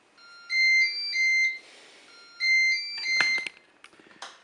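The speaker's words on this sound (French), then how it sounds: "On allume le Cookéo." A Moulinex Cookeo multicooker plays its short electronic start-up melody when switched on: two bright beeping tone phrases separated by a soft whoosh, followed by a few clicks and light handling noises, heard alone at moderate volume.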